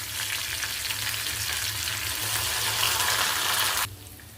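Red chillies and a handful of curry leaves fry in hot oil for tamarind chutney, a loud, dense sizzle that holds steady for nearly four seconds and then cuts off abruptly.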